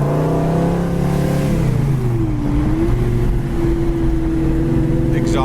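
A 1970 Chevy Chevelle Super Sport with a 396 engine rumbles loud and close through its exhaust, the engine note sliding in pitch as it revs and settles into a steady deep drone.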